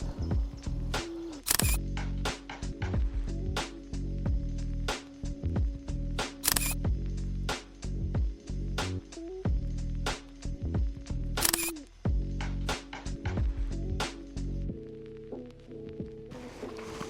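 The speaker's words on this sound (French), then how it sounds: "Peut-être prendre une photo du vélo." Camera shutter clicks while photographing a Rockrider ST120 mountain bike outdoors in mist, several sharp clicks repeating over a steady low hum, with no talking.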